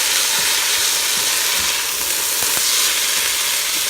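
Fried rice sizzles steadily in a Ninja Foodi on high heat while being stirred, a loud, continuous hiss close up with faint scraping and no voices.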